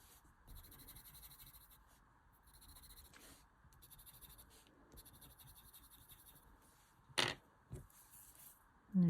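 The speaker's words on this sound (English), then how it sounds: "in the top left I'm going to put just a little bit of this white pastel pencil" White pastel pencil drawn over paper for highlights on a Zentangle pattern: soft, close scratchy strokes in short bursts, with a few sharper scrapes near the end and no talking.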